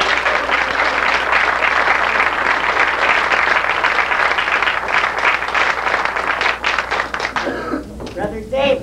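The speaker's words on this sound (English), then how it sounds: "put your hands together and give a nice round of applause" Audience at a stage performance of the musical Nunsense breaks into a sustained round of applause, dense and loud throughout, thinning slightly near the end with some cheering voices mixed in.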